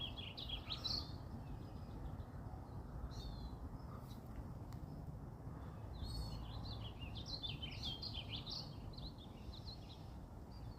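Wild birds chirping along a nature trail, scattered short high tweets and calls repeating from several spots at a modest distance over a soft outdoor background, with no talk.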